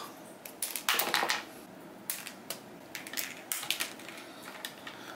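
Mechanical keyboard switches being pressed by hand into an acrylic plate on a custom-built keyboard with Tecsee Jadeite switches: a run of sharp plastic clicks and snaps, some clustered and some single, close up with no talking.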